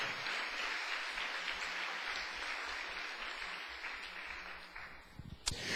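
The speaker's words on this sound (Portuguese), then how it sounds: "salva de palmas" A church congregation applauds during a sermon, a steady wash of clapping that holds evenly and then fades, heard from a distance in a reverberant hall, with no talk.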